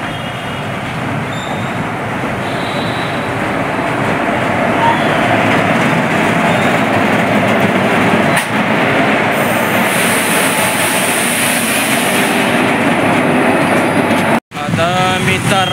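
A train pulling out of a railway station in Kolhapur, a steady loud rumble of rail cars and wheels with faint squeals, continuous and close throughout with a brief dropout near the end.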